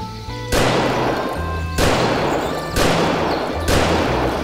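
Four heavy gunshots from a weapon in VietDoom, a Doom mod, each a sharp loud blast with a long decaying tail, spaced roughly a second apart over a low steady hum.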